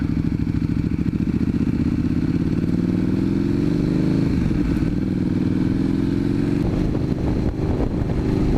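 A motorcycle, either a KTM 1290 or an Indian FTR 1200, cruises at about 42 mph in fourth gear with a loud, steady, smooth engine drone close up and a slight pitch rise partway through, plus wind noise.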